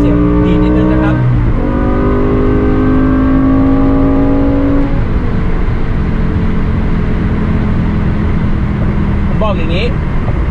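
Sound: BMW M5 E60 V10 engine revving through gear shifts

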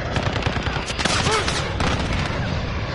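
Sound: gunfire from the video game Call of Duty

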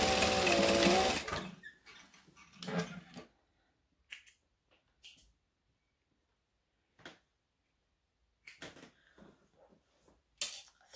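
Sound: sewing machine stitching fabric with backstitch

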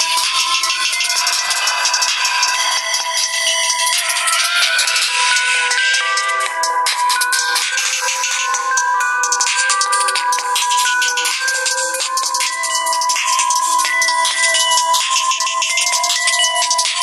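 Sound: ringtone played from Nokia 7.2 phone speaker at full volume

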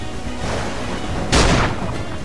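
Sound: musket shots in video game Assassin's Creed IV

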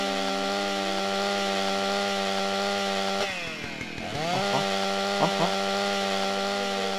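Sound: chainsaw in video game GTA Wasteland

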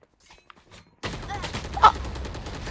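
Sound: gunfire in a video game

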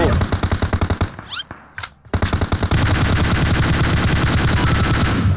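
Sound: gunfire in the video game PUBG Mobile

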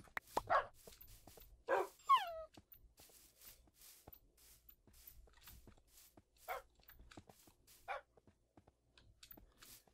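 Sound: dogs barking in Minecraft video game

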